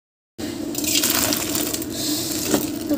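Water from cooked ramen noodles is poured off, a steady close splashing and trickling stream with a few sharper metallic clinks, no talking.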